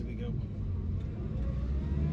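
A classic family car built from 1948 to 1971 pulls away, a steady low engine rumble holding close and even throughout, with people chatting quietly inside over the motor.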